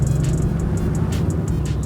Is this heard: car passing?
yes